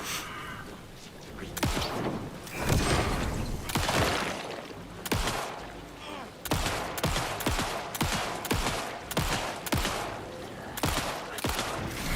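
Repeated gunfire in the video game Alan Wake II, sharp shots in irregular bursts over a steady ambient bed, with some speech mixed in.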